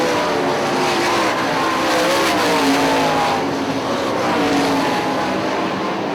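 IRA sprint cars race at Hartford Speedway Park: a loud, continuous engine roar from the field, steady and close, with the pitch shifting slightly as the cars run down the backstretch into the turn.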